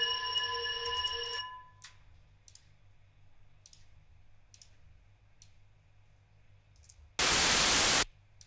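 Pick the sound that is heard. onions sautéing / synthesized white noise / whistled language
synthesized white noise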